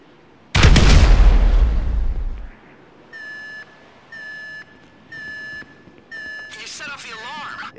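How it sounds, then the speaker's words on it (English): A huge, close explosion from a placed charge in a video game booms out and rumbles for about two seconds, then a string of short, evenly spaced electronic beeps follows, ending in warbling electronic tones. "An explosion will tend to do that."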